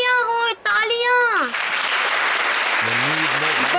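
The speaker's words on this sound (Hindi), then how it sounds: "तालियां हो तालियां." Crowd applause in the cricket video game Real Cricket 22 during an India vs Australia match: a voice speaks first, then a loud, dense roar of clapping swells and holds as the voice returns beneath it.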